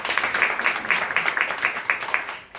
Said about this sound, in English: Can we clap it up one time?